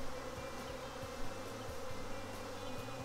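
A dense mass of honey bees buzzing steadily as they are dumped into a hive during a modified Taranov split, a loud, close, unbroken drone with no talking.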